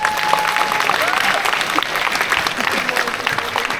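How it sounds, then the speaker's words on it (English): An audience claps for sixth-grade string players of a school philharmonia ensemble at a concert, a dense, steady patter of hands from a sizable crowd lasting the whole stretch. "Let's give them a round of applause."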